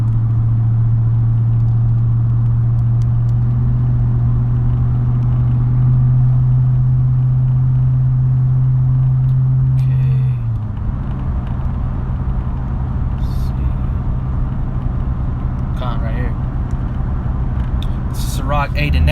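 Car interior drone while driving: a steady engine hum holds for about ten seconds, then settles lower as the car cruises on, with a voice talking over the road noise.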